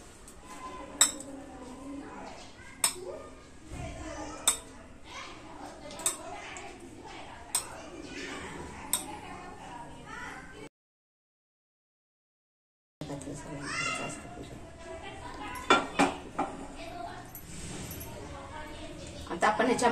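Metal utensils clink sharply in a scattered rhythm around an appe pan as ghee goes in while fasting-style dahi vada balls are cooked; the clinks are close and sit over a low kitchen background, with a brief silent gap midway.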